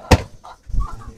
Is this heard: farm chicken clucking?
yes